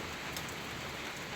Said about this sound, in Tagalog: Bumubuhos pa ang malakas ng ulan.